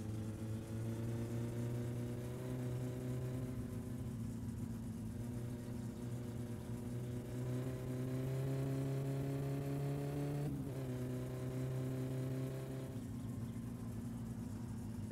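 Tuned turbo Satsuma engine racing in My Summer Car, a sustained droning growl that climbs steadily in pitch, drops suddenly at a gear change and builds again, with no talking.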